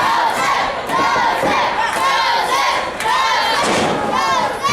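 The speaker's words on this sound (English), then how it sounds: "You see the cheering section there for Joseph." A pro wrestling crowd cheers and yells loudly in rising waves, with scattered shouts and a few dull thumps from the ring, near and continuous throughout.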